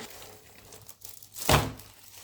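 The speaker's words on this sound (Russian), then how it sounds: "Это вообще другой пакет с другого магазина" A plastic bag holding printed posters crinkles and rustles close by, with faint handling at first and then one loud, sharp crackling rustle.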